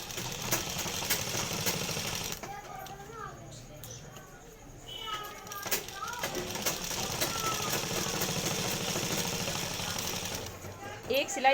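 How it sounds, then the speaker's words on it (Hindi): A sewing machine runs a straight line of stitching to join two pieces of fabric, its steady mechanical whir close and continuous through most of the stretch, briefly easing off once, with a voice speaking over it. "एक सिलाई यहाँ पे लगानी, बिल्कुल सीधी सिलाई,"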